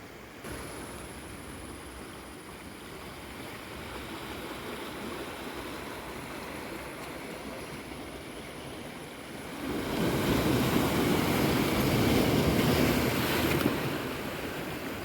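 Sea waves roll and break on the shore at Gosayikunnu in Kainatty, Vadakara, a steady wash of surf with wind across the microphone that swells into a louder crash near the end.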